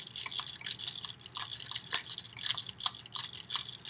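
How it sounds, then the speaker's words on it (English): Ice water stirred in a container, ice cubes clicking and sloshing in a steady, busy crackle of small knocks, close and fairly quiet with no talking. "And keep stirring."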